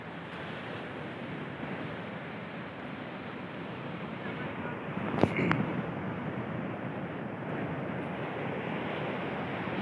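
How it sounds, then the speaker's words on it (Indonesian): Large ocean waves breaking at Sasak beach in West Pasaman, a continuous broadband roar of surf with wind noise on the microphone, steady throughout with one brief louder burst midway. "Ini ombaknya lagi besar ya, teman."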